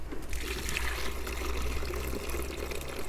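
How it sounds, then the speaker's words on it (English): Liquid is poured out of a container used for growing potatoes, making a steady trickling, splashing stream. It runs continuously for about three seconds at moderate volume, with no talking. "I'm going to pour this out."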